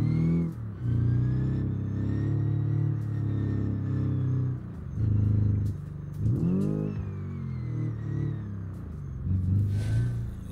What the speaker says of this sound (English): Over rev, I think I damaged the engine there a little bit.